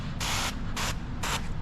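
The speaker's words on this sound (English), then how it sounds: "let's go ahead and spray this edge down" Three quick hissing bursts from a handheld spray bottle misting water onto the edge of a 2025 Kia Forte car window during tint installation, each spray about a quarter second, close and clear over a low background hum.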